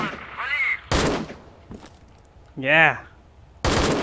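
Gunfire in STALKER Call of Chernobyl, several sharp, loud bursts of shots separated by pauses, with someone talking between the shots.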